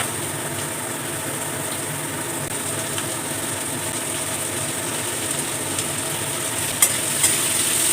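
Dry red chillies and whole cumin seeds sizzle steadily in hot frying oil, a constant close crackling hiss with a few brief clicks near the end.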